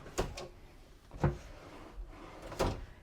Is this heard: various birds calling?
no